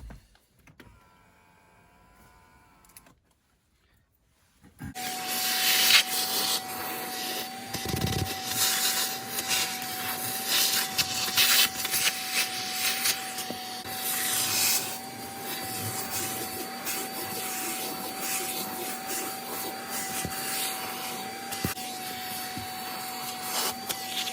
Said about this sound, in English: I'm just going to clean the surface with a vacuum cleaner.